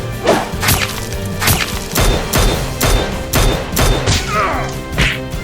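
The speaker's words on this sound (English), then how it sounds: "The SWAT duo quickly stands and fires continuously at the soldiers." Toy Nerf blasters fire in a continuous barrage during a staged SWAT-versus-soldiers Nerf battle, loud repeated bursts of shots and impacts with no pauses.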